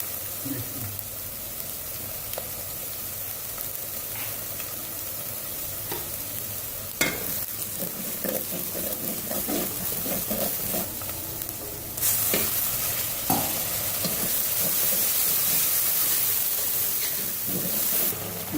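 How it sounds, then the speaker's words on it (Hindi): Spice masala of green chilli paste, turmeric and salt roasting in a pan for radish and spinach sabzi, a continuous sizzle with repeated spoon scrapes and stirring knocks that grow louder toward the end. "इसको ना मसाले को अच्छी तरह भून देंगे।"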